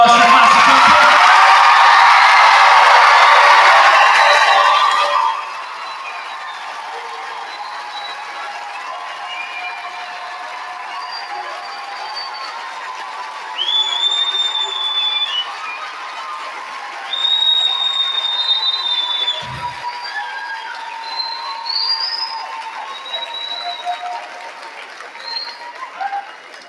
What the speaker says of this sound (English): big round of applause for class of 2024